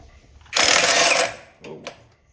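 An impact wrench run in reverse to break loose a bolt on the gearbox of an 80s Harley-Davidson Ultra Classic being fitted with a 6-speed gear set, one loud, dense burst of about a second, then a shorter follow-up rattle, close by.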